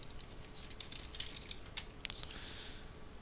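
Quick, light keystrokes on a computer keyboard as a search term is entered, an irregular run of soft clicks at close range over a quiet room, with no talking.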